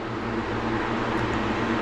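Small air conditioning unit fan running in a home workshop, a steady broadband whoosh and low hum that stays constant and fairly close throughout, with no speech.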